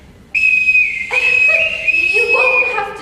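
A shrill whistle signal blown loudly and close, a sustained piercing blast that shifts into a second varying tone with breathy hiss, with no talk over it.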